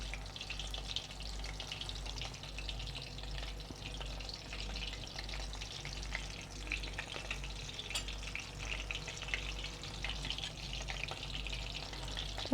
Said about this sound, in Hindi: इसको भी हम मीडियम फ्लेम पर ही फ्राई करेंगे ताकि अंदर तक फ्राई भी हो जाए